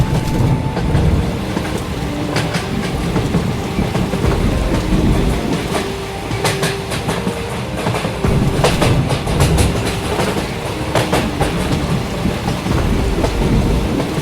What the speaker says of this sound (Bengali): এ বাবা, আবার বৃষ্টি শুরু হলো।